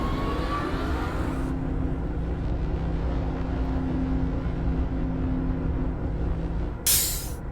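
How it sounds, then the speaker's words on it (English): A vehicle exhaust in the Myst VR game gives a steady loud rumbling roar with a hissing burst near the end. "exhaust sound"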